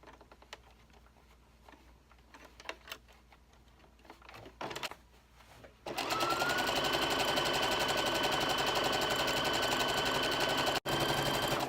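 A sewing machine stitches a single straight seam across a valance-style cafe curtain, starting after some quiet handling noises and then running steadily and loudly for several seconds with only a brief pause near the end.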